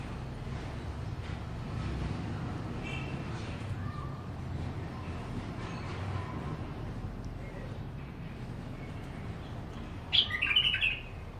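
A young, newly caught caged songbird sings in chirps and short phrases, mostly faint against a noisy room background, ending with a brighter, louder burst of song near the close.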